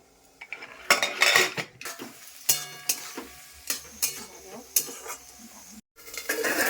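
Utensils clink and scrape against a pan as food is stirred and fried in a home kitchen, with a quiet sizzle under repeated metallic knocks at an uneven rhythm, close by and with no talking.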